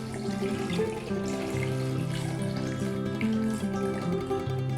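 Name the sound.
water being poured into a cooking pot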